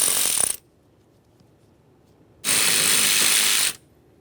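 A hand ratchet works on the door mounting nuts of a 2015-2020 Ford F-150 during a rear window regulator replacement, with two bursts of rapid close clicking separated by a quiet pause.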